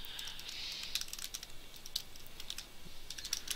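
A name being typed on a computer keyboard, steady light key clicks pattering close by with brief pauses, no voices over it.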